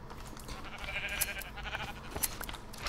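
Sheep in the Minecraft video game bleat in a couple of short wavering cries, moderately close, over a faint background of game ambience.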